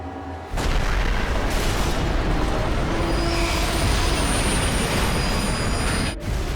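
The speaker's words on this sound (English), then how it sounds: "The trains collide like two charging rams at a combined speed of nearly 200 kilometers per hour." Two freight trains colliding head-on at a combined speed near 200 km/h after a brake failure, heard as a sudden loud roaring crash that erupts and sustains a dense, grinding rumble for several seconds before cutting off.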